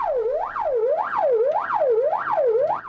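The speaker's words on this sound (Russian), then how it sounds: "Владимир Лавров включил проблесковый маячок и сирену" A fire engine siren wailing loud and close, rising and falling in a fast, even sweep about twice a second, alone without any voices.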